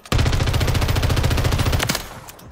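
A TAQ Evolvere rifle in Modern Warfare 3 fires one sustained automatic burst of close, loud, evenly spaced shots for nearly two seconds, then stops abruptly, leaving a short fading tail with no voices.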